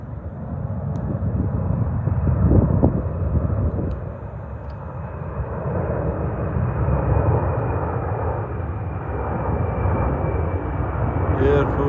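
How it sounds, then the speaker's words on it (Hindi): An air force plane flies overhead near Kuldhara village in Jaisalmer, Rajasthan, giving a steady, broad engine roar that swells and eases for about twelve seconds, with no one speaking. "एयरफोर्स की कोई विमान है।"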